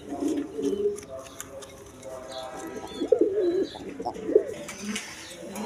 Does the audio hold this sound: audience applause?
no